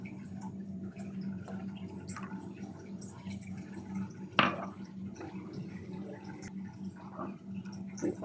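A little water splashes into a tea pot for a rinse, soft close drips and trickles with one sharper splash midway, over a low kitchen hum.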